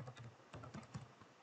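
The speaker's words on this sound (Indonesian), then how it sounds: "Kemudian kita ketikkan perintah untuk menginstal Laravel." A command is typed on a computer keyboard: a quiet, close run of irregular key clicks over about a second and a half, with no voice.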